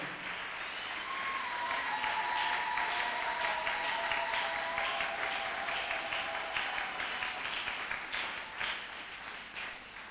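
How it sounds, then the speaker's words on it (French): A church congregation at a gathering applauds for about ten seconds in a dense, steady wash of clapping, with a few drawn-out cheering cries rising above it from some distance. "C'est pas comme ça qu'il faut acclamer."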